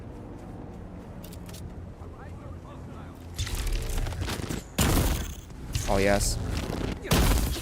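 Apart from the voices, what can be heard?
gunfire in video game Dune Awakening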